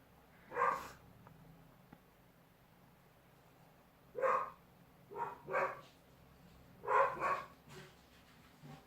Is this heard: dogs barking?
yes